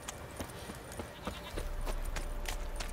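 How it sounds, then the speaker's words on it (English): A goat in The Witcher 3 video game bleats a few times, faint and short, over a background of game ambience. "I'm sorry, the lunatic goat."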